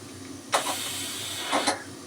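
Hissing bursts of steam from a pressure cooker on a home kitchen stove whose whistle has stopped rising, two loud broadband rushes about a second apart over a low background hum, no talking.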